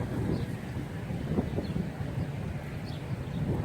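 Outdoor wind buffets the microphone steadily throughout while a Q95 quadcopter flies, a continuous low rumbling roar with no talk over it.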